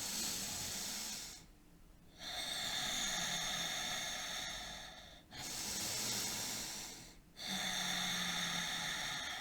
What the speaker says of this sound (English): you're going to breathe 30 times, okay? And it's not as slow as the last time. It's actually pretty quick